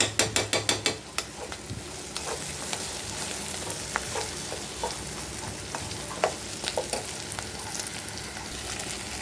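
Broad beans sizzle steadily in a steel pot while a utensil scrapes and clanks against the sides, with a quick run of sharp taps at the start.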